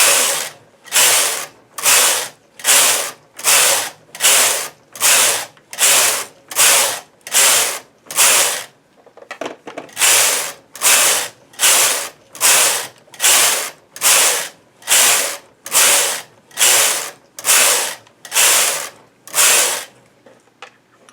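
An LK-150 knitting machine carriage set to tension 6 and two clicks is pushed back and forth across the bed, giving a steady run of about twenty loud, even rattling passes with a short pause midway and no talk.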